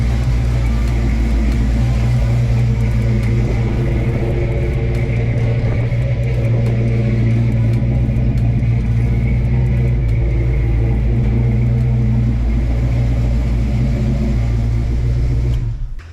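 A car engine idles steadily and loudly at close range with a deep continuous rumble, a light tapping from a slightly loose rocker on the passenger side running through it as the engine warms.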